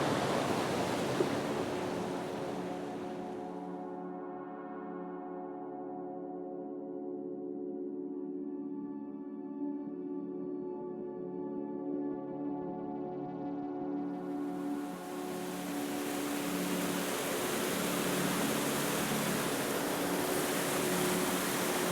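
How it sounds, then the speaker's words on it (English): Powerful waterfall in wild Italian landscape, a steady broad roar of rushing water that stays constant throughout, with a dip in the brighter hiss midway before it returns; no voices. "But look how beautiful this waterfall is today. It's so dynamic."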